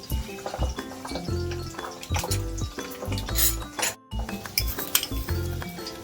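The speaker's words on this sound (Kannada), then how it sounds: "ನಾನು 1 ಸ್ಪೂನಷ್ಟು ಸಾಸಿವೆ ಹಾಕ್ಕೊತಾ ಇದ್ದೀನಿ" A spoonful of mustard seeds dropped into hot oil, with clattering pan and utensil knocks and scraping in an irregular busy rhythm, close and fairly loud, with a brief silent gap midway.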